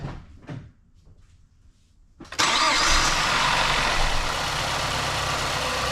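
A 2008 Mazda CX-7 with an EGR fault cranks after a couple of quiet knocks and catches abruptly, settling into a loud, steady, close idle that fills the rest.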